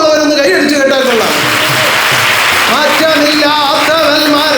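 A congregation at a community worship service claps in a dense burst of applause lasting a couple of seconds, set between stretches of singing.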